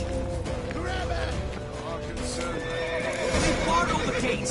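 A horse whinnies and its hooves clip-clop in The Witcher 3 video game, set amid busy game ambience with people speaking over the action.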